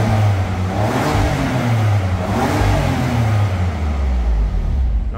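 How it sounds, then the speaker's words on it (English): A 454 bhp BMW M4 CS 3.0 coupe revs in comfort mode, a loud, steady engine roar with rising and falling pitch sweeps, close and continuous with no talk. "we'll let the vehicle warm up and then we'll see what it sounds like"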